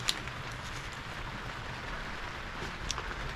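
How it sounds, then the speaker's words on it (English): Cold hard rain drums on a greenhouse roof, a steady dense patter and hiss with a couple of sharper drop ticks, heard from inside without talk. "you can hear it raining hard out on the greenhouse roof"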